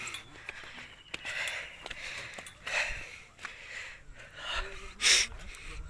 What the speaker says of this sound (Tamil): இங்கே பாரு, மூச்சு வாங்குதா?